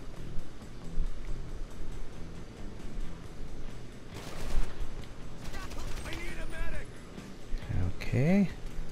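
Enemy gunfire aimed at the player in GTA Online comes in short rattling bursts around the middle of the clip, set against engine and game noise and a clipped tonal effect near the end.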